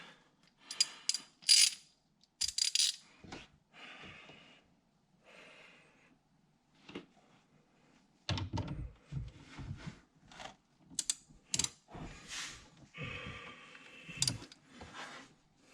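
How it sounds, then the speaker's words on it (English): A ratchet with a 10mm socket loosens the negative battery terminal in the trunk of a Dodge Challenger Hellcat, giving short, quiet bursts of close clicking separated by pauses. "I'm gonna loosen up this negative terminal in my trunk. Takes a 10mm socket."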